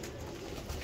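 A pet pigeon kept by a pigeon fancier gives a brief, low, soft coo, heard alone and fairly close.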